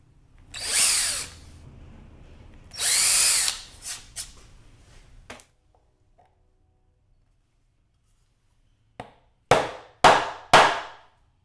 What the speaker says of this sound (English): Drilling some holes in